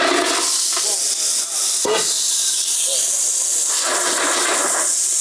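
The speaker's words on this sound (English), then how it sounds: "So now we put the clams in." Clams hit very hot oil with lemongrass, garlic and kaffir lime leaf, setting off a loud, continuous sizzle and steam hiss that swells again near the end, with faint talk underneath.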